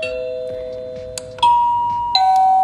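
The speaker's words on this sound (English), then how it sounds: "I put in my doorbell today. So you just click this, and it rings." An electronic classroom doorbell plays a clear three-note chime, each bright tone ringing out and fading before the next, loud and close with no talk over it.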